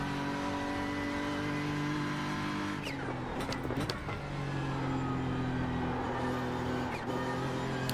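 A racing car engine revs steadily on the Nurburgring in a racing game, a loud continuous drone with pitch sweeps as the throttle drops and comes back in, no talk.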